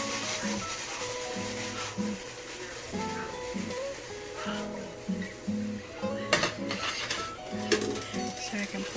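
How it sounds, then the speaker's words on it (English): A utensil scrapes and rubs steadily through vegetables and turkey meat sauce seasoned with salt and pepper in a pan, a continuous gritty stirring sound that sits under a voice with some background sound. "now I'll just stir that in"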